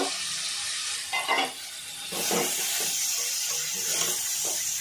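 Lobster legs sautéing with spices in a pan, a steady hissing sizzle with a few brief stirring scrapes, close and moderately loud with no talking.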